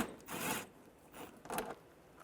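T25 socket on a ratchet wrench backing out a screw between the bumper and fender of a 1998-2010 Volkswagen Beetle, three short close ratcheting zips with pauses between.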